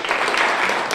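A brief burst of applause greets Pastor Jackson on a stage show, dense and steady, close and fairly loud throughout with no speech over it.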